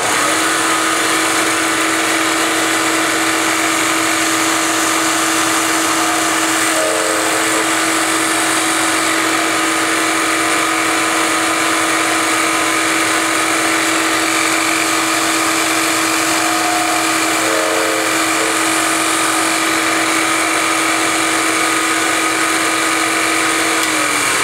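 A Bridgeport milling machine spins at about 3,100 RPM while drilling vinyl, giving a steady loud motor whine that holds level throughout with no speech.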